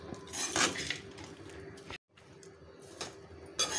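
Lemon rice with the juice of two lemons being mixed in a metal pan, with a spoon clinking and scraping against the metal in a steady, close-up rhythm, broken by a brief silence partway through. No one speaks.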